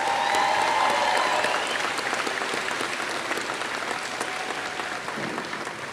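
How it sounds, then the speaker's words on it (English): A graduating high school class and crowd applaud at a graduation ceremony, with dense clapping and a few cheers that start strong and slowly fade. "a big round of applause for all of you"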